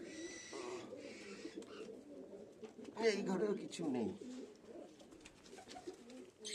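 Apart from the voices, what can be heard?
pigeons cooing in a loft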